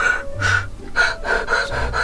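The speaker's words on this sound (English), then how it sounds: "the main technique here is to breathe in and out" Loud rhythmic breathing for beatboxing, close to the microphone: a quick series of sharp, forceful inhales and exhales that pulse in a fast pattern. There is no talking.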